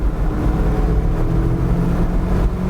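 A 2020 Mazda MX-5 RF with a six-speed manual revs up toward 7,000 rpm, a loud, close, sustained engine roar with a low rumbling drone that holds steady across the short burst.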